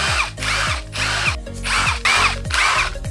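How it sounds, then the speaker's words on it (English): A cordless power drill used to build a basic DIY clothing rack, whirring loud and close in several short bursts, each trigger pull winding up and then cutting off in a stop-start rhythm. "A drill. You will need a drill."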